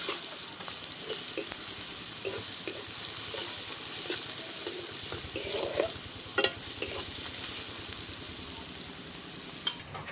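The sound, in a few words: frying onion and garlic paste in a pan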